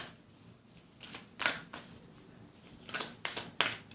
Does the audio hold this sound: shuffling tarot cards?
yes